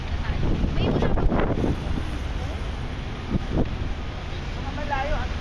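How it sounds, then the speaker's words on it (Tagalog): Strong wind buffets the microphone outdoors, a steady low rumbling roar with gusty surges, while people talk faintly in the background. "Ayaw ko ng hangin."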